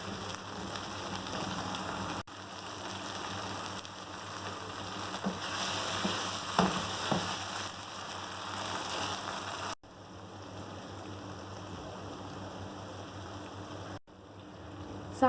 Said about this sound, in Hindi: हम इसे मीडियम फ्लेम पर ही भूनेंगे